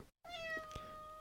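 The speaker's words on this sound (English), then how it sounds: "That's my cat." A house cat gives a single clear, drawn-out meow close by in a quiet indoor room, preceded by a brief moment of silence.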